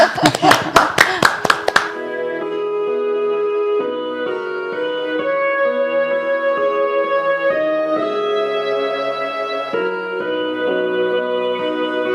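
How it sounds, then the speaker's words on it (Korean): Church congregation claps for a pastor in a short, loud burst of about two seconds, sharp separate claps that stop as sustained keyboard music begins. "박수를 한번 청해 보도록 할까요?"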